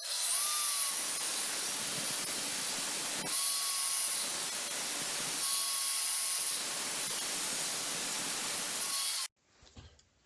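A hacksaw cuts through the top of an old metal gas canister in steady, loud, raspy strokes, each pass a long grinding hiss with brief pauses between, then a few quieter scrapes at the end.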